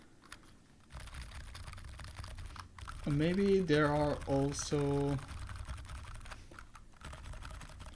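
Rapid, steady clacking of keys on a Neverest 60 mechanical keyboard runs through the whole stretch, with a voice speaking briefly over it in the middle.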